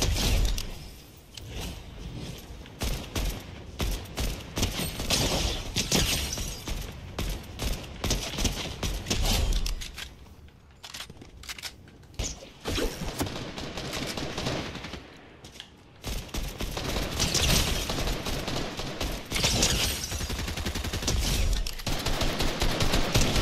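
Gunfire in the battle royale game Fortnite, dense repeated shots and bursts throughout with short lulls, loud and close, mixed with game effects.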